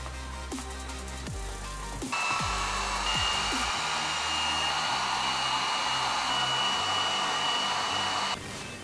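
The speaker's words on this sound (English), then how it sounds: "I'm going to use my heat gun to shape this a little bit before I put it on the bumper" A heat gun blowing onto a plastic front lip being shaped for a Toyota MR2 Turbo bumper, a steady close whooshing blower roar that starts with a few clicks and stops abruptly near the end.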